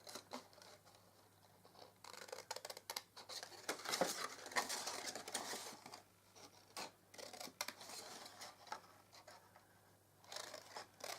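Scissors trimming a square off the corner of a paper gift bag, a few quiet close snips and paper rustles, with soft handling noises between the cuts.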